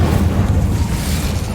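Incendio fire spell cast in Hogwarts Legacy, a brief dense roaring burst of flame with heavy low rumble, loud and sustained throughout.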